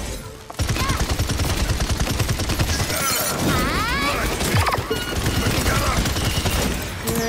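Dense, rapid gunfire from the hero shooter game Paladins, a loud continuous barrage of shots and impacts with game effects layered over it, almost unbroken from start to finish.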